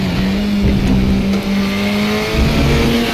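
A KTM X-Bow race car engine in the RaceRoom video game roars steadily and loudly at Laguna Seca with a hard, raspy edge, its pitch climbing through gear changes and no one speaking.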